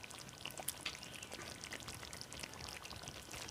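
Ghee poured into a curry of homemade paneer, a soft steady trickle with faint sizzle and light crackle running throughout, quiet and close.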